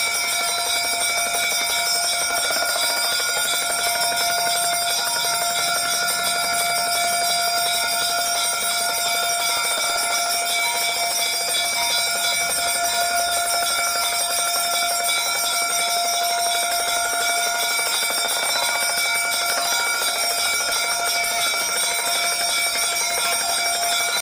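Temple bells ring during a Hindu aarti, a dense, continuous metallic clanging that stays loud and unbroken throughout, with no speech over it.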